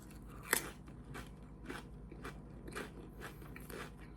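Crunchy snack chips, eaten three stacked together, give one sharp close crunch followed by several softer rhythmic chewing crunches, all faint and without talk.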